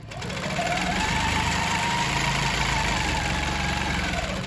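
A sewing machine runs steadily through a free-motion quilting swirl, its motor whirring loudly and continuously with a fast mechanical stitching rattle from start to finish, close by and alone.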